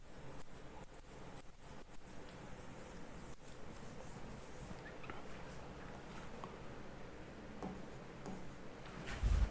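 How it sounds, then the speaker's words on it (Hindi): Marker or chalk writing on a board during a chemistry class, heard as faint, continuous rubbing and scratchy strokes with a few light taps, fairly distant under steady room noise and with no talking. "चलिए वो लिखता हूं पॉइंट।"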